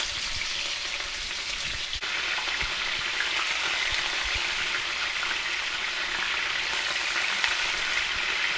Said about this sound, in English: Now that chicharrones are in the pan and they're simmering away